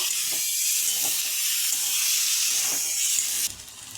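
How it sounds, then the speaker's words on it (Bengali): Prawns frying in a pan with spice-coated potatoes give a steady, close, broad hiss with light stirring scrapes, easing off near the end, with no voices. "এখন আমি চিংড়ি মাছগুলো এখন দিয়ে দেবো দিয়ে ভালো করে কষিয়ে নেব"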